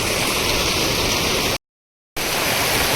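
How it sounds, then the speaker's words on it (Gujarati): Heavy rain pouring down on a farm field in the village of Khajuri Gundala near Jetpur, Rajkot: a loud, dense, unbroken roar of falling water, cut by a brief dead-silent gap before resuming. "વરસાદ મન મૂકીને વરસે છે"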